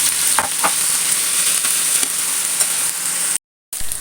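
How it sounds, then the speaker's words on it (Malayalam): Chicken frying in oil hisses loudly and steadily, with a few sharp crackles early on, then cuts out for a split second before the sizzle resumes. "നമുക്ക് ചിക്കൻ ഒന്ന് വറുത്തെടുക്കാം"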